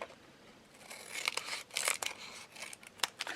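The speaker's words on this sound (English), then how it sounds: "you want to open that up and cut that flap off" Scissors snip the corner flap off a bag in a few quick, crisp cuts with light paper-like crinkling, close and fairly quiet, with no talk.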